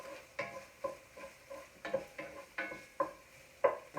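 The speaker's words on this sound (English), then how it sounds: "I'm going to throw it right into this celery root and potato to let that kind of melt down a little bit" Butter melting and browning with celery root and potato in a pan, heard as a soft sizzle broken by regular stirring scrapes about every half second, close and fairly quiet.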